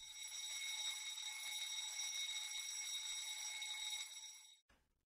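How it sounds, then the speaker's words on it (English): A ship's engine room fire alarm, triggered when the first fire detector activates, rings as a steady high electronic tone sustained for about four seconds before cutting off abruptly, heard alone with no talk. "an alarm is initiated."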